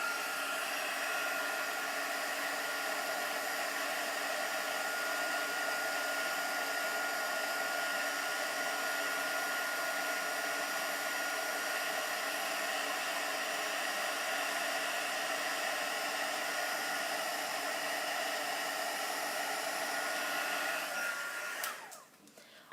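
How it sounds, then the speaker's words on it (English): Heat gun blowing to melt silver embossing powder, a steady whooshing hiss of fan and air that runs unbroken for about twenty seconds before cutting off, close and fairly quiet with no voices. "So now if we just heat emboss this"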